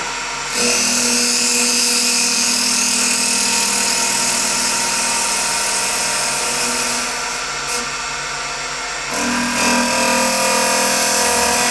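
A woodturning lathe spins an ash maple bowl while the tool cuts, a loud, continuous droning whir with a harsh, gritty edge and steady hum tones. The sound briefly drops out and then resumes near the end.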